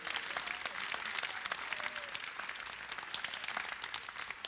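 Audience applause at a live comedy show, steady dense clapping from a crowd throughout, fairly even in loudness with no talk over it.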